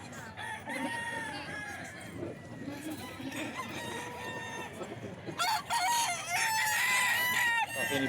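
Golden Boy gamecock roosters crowing repeatedly, several calls overlapping near and far, with clucking fowl and a loud burst of crowing near the end.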